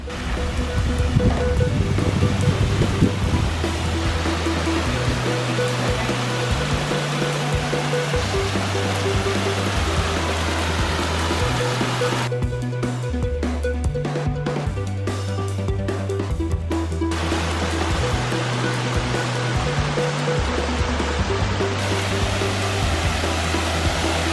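A waterfall pours into a 50,000-gallon pond, making a steady, full rush of falling water that runs unbroken throughout, with a low, stepped musical line underneath.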